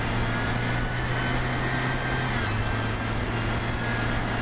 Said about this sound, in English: Now I know this tractor is quite loud